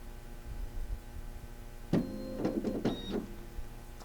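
A printer switches on and starts running, with a burst of whirring and clicking mechanical noise over a low background hum. Nobody talks.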